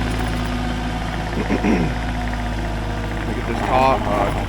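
A skid steer engine idles close by in a steady low drone while people talk over it.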